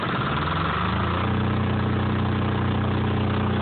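A Caterpillar C6.7KW diesel portable standby generator runs at a steady, loud idle, a continuous low chugging drone that holds evenly throughout with no talk.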